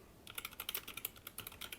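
Rapid, quiet clicking of keys on an MSI computer keyboard during a typing test, a fast uneven patter of keystrokes with no talking.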